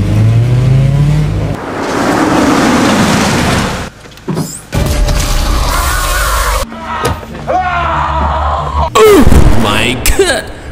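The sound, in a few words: car engine starting and accelerating hard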